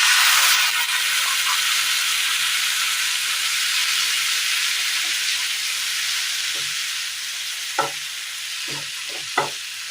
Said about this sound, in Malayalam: ഇതിലേക്ക് ഒരല്പം ചെറു ചൂടുവെള്ളം ഒഴിച്ചു കൊടുക്കാം